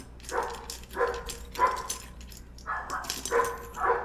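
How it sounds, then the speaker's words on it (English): Dogs bark in a series of sharp, repeated bursts, about six barks over a few seconds, moderately loud and fairly close, with no talking. "Oh my god, the dogs are so loud."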